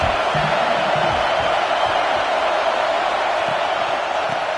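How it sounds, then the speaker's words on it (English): Stadium crowd noise from a college football video game, Miami versus Clemson, a steady broad roar of cheering that holds loud and even throughout with no distinct voices. "this crowd is turning it up a notch"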